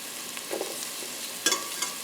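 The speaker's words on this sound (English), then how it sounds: "We're going to saute this garlic for 2 minutes." Garlic sautés with onions in olive oil in a pan, giving a soft, steady sizzle with a few faint stirring scrapes and clinks, with no talking.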